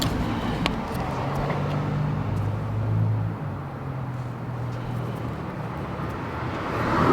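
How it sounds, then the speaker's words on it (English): Steady road noise from a car driving on studded winter tyres in Iceland, a continuous low rumble and tyre hum with a faint engine drone, heard from inside. "our car makes a lot of noise when it goes along."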